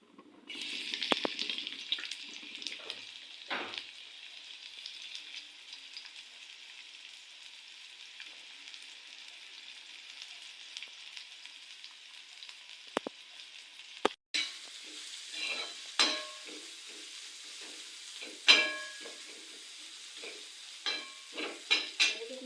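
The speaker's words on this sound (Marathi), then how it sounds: "आता सर्व आपण मिश्रण इथं अगोदर भाजून घेणार आहे" A masala, ground peanut and onion mixture dry-roasting in a pan before stuffed brinjal curry gives a faint steady hiss, broken partway through by a louder stretch of scraping stirs and clinks near the pan, with no talking.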